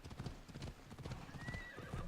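Horse hooves clip-clop in a quick galloping rhythm while riding in Assassin's Creed Odyssey, with a faint snort or whinny near the end and light game ambience underneath.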